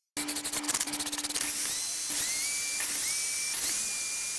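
A power drill drives a longer screw into wood while building a garden hose hanger. Its motor whines in rising and falling bursts, close and fairly loud, after a short run of rapid ratcheting clicks at the start.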